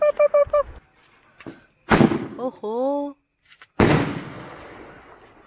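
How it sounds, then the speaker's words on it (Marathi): Firecrackers set off at a home Tulsi Vivah celebration, sharp cracks and fizzing bursts close by, mixed with whistling rising tones and voices talking between the blasts. "चला इथं आता थोडेसे फटाके उडवूया."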